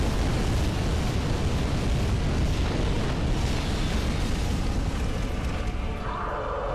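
A fire attack erupts in Dark Souls 3 during a boss phase, a loud, dense roaring burst of flame that sustains throughout without clear breaks, with no speech.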